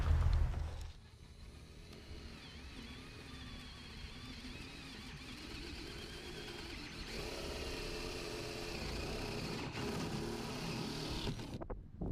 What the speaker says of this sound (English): What I'm going to be using to drill the hole is a 1 3/8" paddle bit